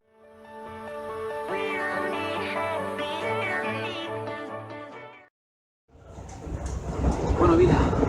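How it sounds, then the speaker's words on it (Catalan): Another train passes alongside a moving passenger train bound for Gandia. A sustained tonal passage cuts off into a brief near-silence, then a rushing roar swells louder over the last couple of seconds. "que te passa un altre tren per el costat"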